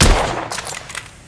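A gunshot from a firearm in The Order: 1886, a loud sharp blast up front that decays into a ringing, metallic tail over about a second.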